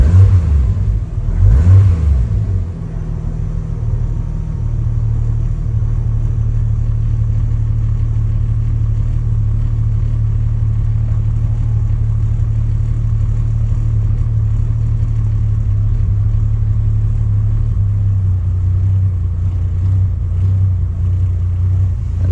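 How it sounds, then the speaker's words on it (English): A 1989 Toyota Supra MK3 with a 7MGTE engine, given a short quick rev early on that swells and falls back to a steady, rumbling idle that holds for a long stretch, close and loud with no talk. "I'm gonna rev it a little bit."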